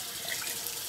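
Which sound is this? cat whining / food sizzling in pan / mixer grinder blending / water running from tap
water running from tap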